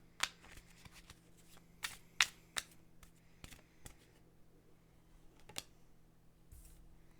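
Cards handled for a tarot reading: a sparse series of crisp, close card snaps and flicks at irregular intervals over a faint steady background hum, with no talking.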